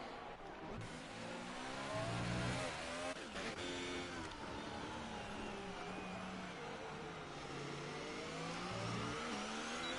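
Several F1 race cars in a racing video game at Bahrain accelerate back to speed, engines revving up and shifting through gears in overlapping rising whines, loud and continuous with a car sweeping close by, with no voices.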